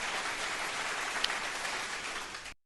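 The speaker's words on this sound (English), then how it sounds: "Big round of applause for that." An audience claps in a steady, full burst of applause that cuts off abruptly at the end, with no talking over it.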